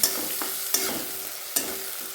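Chopped tomato sautéing in a pan of oil for dal tadka, a steady soft sizzle with three sharp spoon clinks against the pan at even intervals, close by and without talk.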